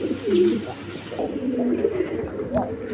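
Pigeons, including a pair of black Bombay pigeons, coo and call at close range in a loft while a person talks over them throughout.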